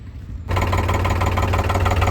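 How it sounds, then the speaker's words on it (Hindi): A tractor engine turns over after a brief quiet start and settles into a steady, loud idle with a low, rhythmic knocking throb, close by and without talk, on a tractor caravan trip near the Solang Valley. "चलो दोस्तों फिर करते हैं अपना ट्रैक्टर स्टार्ट"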